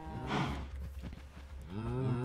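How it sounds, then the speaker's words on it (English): Cows moo in the video game Minecraft, a single low drawn-out bovine call followed by a second rising moo, fairly close and with no talking. "these cows are going to be mighty noisy"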